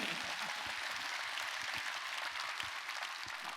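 A church congregation at a Sunday worship service claps together, a steady wash of applause heard faintly at a distance throughout.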